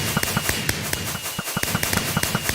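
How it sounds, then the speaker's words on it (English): Fireworks fired in the video game Minecraft crack and pop in a rapid, irregular string of sharp bursts, some overlapping, loud and close with a constant hiss beneath. "firing fireworks directly into our expensive camera equipment"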